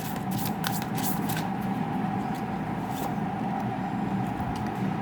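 Oracle cards are shuffled during a card reading, a steady close riffling patter with sharp flicks and snaps throughout, under a constant low hum.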